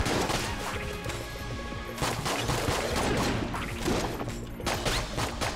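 Dense, continuous bursts of cartoonish gunfire and crashing impacts from the bullet-hell game Enter the Gungeon, loud and relentless with brief dips between volleys and no talking.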